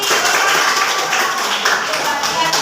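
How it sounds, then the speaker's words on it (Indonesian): A classroom of students applauding for a classmate, a dense burst of many hands clapping together, close and fairly loud for a couple of seconds. "Beri tepuk tangan untuk Rizky."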